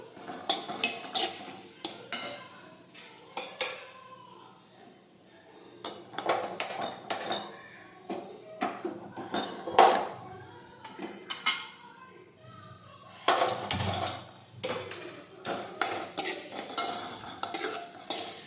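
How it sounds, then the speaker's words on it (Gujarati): Chopped onions sauté in a pan with mustard seeds and cumin, a soft sizzle under repeated close stirring scrapes and clinks of a utensil against the metal, with some quiet talking. "સમારેલા કાંદા નાખીશું. હવે આપણે સાતળી લઈશું."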